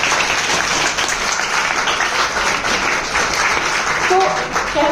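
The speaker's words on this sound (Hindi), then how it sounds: "तो एक बार तालियां अरुणिमा सिन्हा के लिए।" An audience at a talk on personality development breaks into applause, a broad wash of many hands clapping that holds steady throughout, with a faint voice or tonal sound slipping in near the end.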